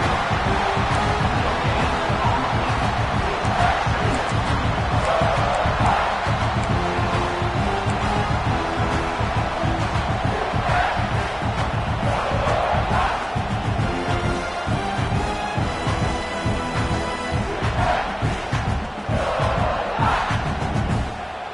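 Football stadium crowd roaring behind the Utah defense as it tries for a red-zone stop: a loud, sustained wall of cheering and chanting that swells and holds for about twenty seconds, with a deep rumble underneath.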